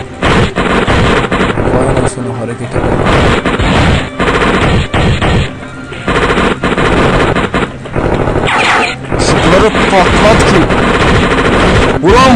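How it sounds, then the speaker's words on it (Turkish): Rapid automatic gunfire rattles in the shooter video game Kurtlar Vadisi Pusu, loud repeated bursts with short pauses between them, while a player talks over the shooting. "Vuruyorum vuruyorum ölmüyor"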